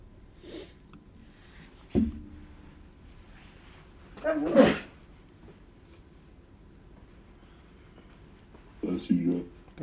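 A man sneezes once, sharp and a few metres off, around the middle of a quiet room at a live stock-market trading desk, with brief murmurs of speech before and after.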